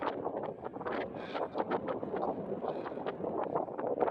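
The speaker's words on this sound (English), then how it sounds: "Windy as all get out." Steady gusting wind on the summit of Blood Mountain buffets the microphone, a continuous rough rush with fluttering bursts and no voices.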